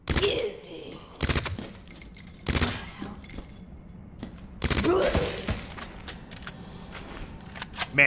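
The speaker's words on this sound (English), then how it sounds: "this submachine gun is so good" A submachine gun fires in short, loud bursts of rapid shots in Resident Evil 2 Remake, with game ambience in the pauses between volleys.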